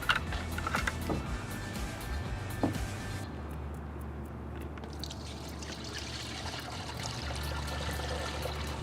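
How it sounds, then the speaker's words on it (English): Spray mix of VectoBac WDG trickles through the built-in top filter into a Stihl backpack sprayer, a steady, soft pouring and dribbling that runs for several seconds, with faint background noise and no talk. "we want to pour our spray mix in through that filter"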